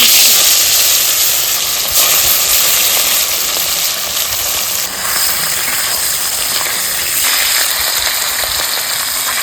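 Hilsa fish fries in hot oil in a wok over a stove, a loud, continuous, hissing sizzle that holds steady throughout with slight shifts in intensity.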